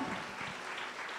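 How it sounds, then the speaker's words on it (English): Soft applause from a church congregation during a healing service, a fairly faint, sustained patter of clapping that holds steady and then tapers slightly, with no speech over it. "Let's give the God a big round of applause."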